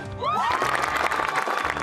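Crowd of families and veterans cheering and applauding at an off-road driving event, a broad, steady wash of clapping and shouts filling the short moment, with a voice rising over it near the start.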